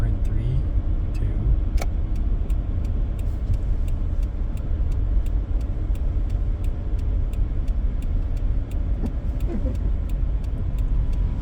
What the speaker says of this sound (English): Here comes the turn signal, the loudest part of operating my car